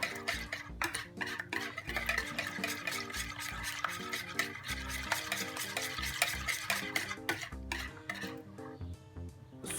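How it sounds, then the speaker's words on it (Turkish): Eggs are beaten in a bowl with a fork or whisk, a quick rhythmic run of light clinking strokes against the side, fairly close and continuous, without any talking. "Evet öncelikle yumurtamı kaseme alıyorum ve çırpıyorum."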